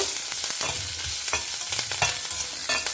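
Curry leaves, dried red chillies and fenugreek crackling in hot oil, a bright continuous sizzle with sharp spitting bursts and spoon scrapes recurring every half second or so, close by and without speech.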